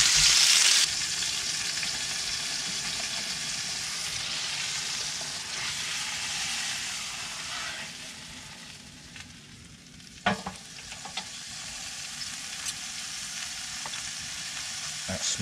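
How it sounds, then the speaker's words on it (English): Steady, loud sizzling of a rubbed steak frying in a hot pan, a continuous crackling hiss with occasional sharper pops, no talking. "Sizzle, sizzle, sizzle."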